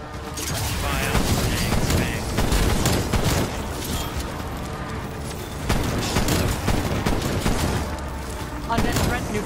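Rapid video game gunfire in sustained bursts of loud automatic shots, near and dense, with brief pauses between volleys while someone talks over it.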